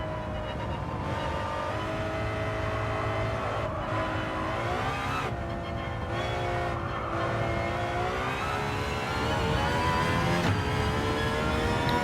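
Aston Martin Valkyrie engine in Gran Turismo 7, loud and continuous as it revs and shifts, with pitch climbing and dropping through gear changes and brief lifts off the throttle during a hard test drive.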